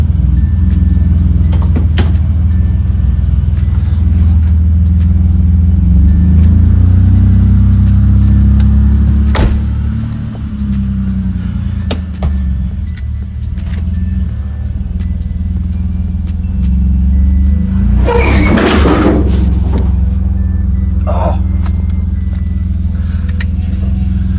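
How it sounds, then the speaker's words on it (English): A 1988 BMW engine with an exhaust leak idles loudly and close with a rough, rumbling drone, a few sharp ticks and a brief burst of noise partway through. "She has an exhaust leak."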